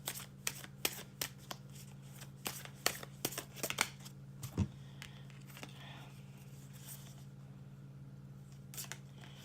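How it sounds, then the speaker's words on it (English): Wild Unknown Animal Spirit oracle cards are shuffled close by in a quiet room, giving a string of crisp, irregular riffling snaps and flicks that thin out toward the end. "I'm going to pull one from the Wild Unknown Animal Spirit cards"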